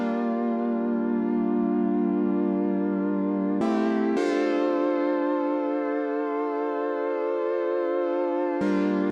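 Sustained synth chords from Logic Pro's Alchemy Evolving Currents preset, a rich harmonic pad holding one chord and then changing twice in a steady pattern, loud and close with no voices.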